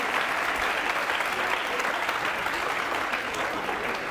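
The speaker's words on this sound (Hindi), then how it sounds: "ताली बजाओ मेरे लिए यार" Audience applause in a television courtroom-style show studio, steady dense clapping from a large crowd held at an even level throughout without pause.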